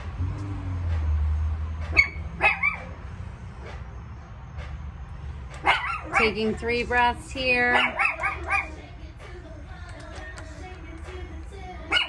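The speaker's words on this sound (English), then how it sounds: "Dogs are barking." A dog barks in short bursts a little way off while a calm voice speaks over a low background hum.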